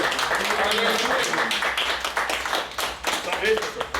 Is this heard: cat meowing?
no